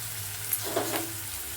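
Soft sizzling as carrots and beans are added to a hot frying pan while making shavige bath for breakfast, a faint crackle with a few small stirring taps over a steady low background hum.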